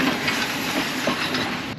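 A train rumbles past on the tracks with a steady broadband roar and faint rhythmic clatter, loud and close, ending abruptly.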